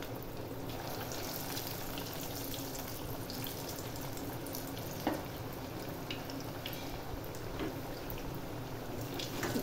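Potato rolls coated in breadcrumbs deep frying in hot oil, a steady close bubbling sizzle with one brief clink midway, no talk.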